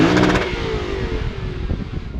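A parked 2021 Lexus RC F Track Edition with a titanium exhaust revs once and loudly from outside, then the engine note falls back and settles into a rumbling idle.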